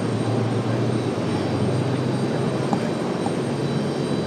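A Breeze Airways Airbus A220-300 airliner departs, its steady broadband engine roar rumbling continuously at moderate distance with no voices over it.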